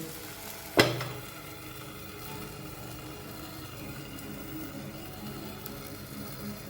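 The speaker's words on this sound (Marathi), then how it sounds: "याचा असा चुरचूर चुरचूर आवाज यायला लागलेला आहे" Jowar flour batter hits a hot pan with a sharp splash, then settles into a steady, soft crackling sizzle that continues throughout.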